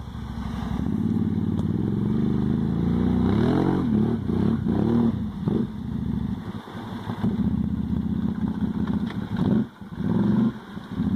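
A 2008 Arctic Cat Thundercat 1000 ATV churns through a deep mud hole, its engine revving and surging in uneven bursts with brief dips, close by and loud.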